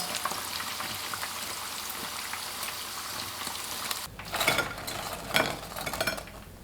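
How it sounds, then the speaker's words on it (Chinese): Chicken breast nuggets deep-fry in oil over medium-low heat, giving a dense, even sizzle for about four seconds, then quieter bubbling with clinks and scrapes as the pieces are turned. "全程一定要中小火慢炸，防止一下炸糊，里面不熟"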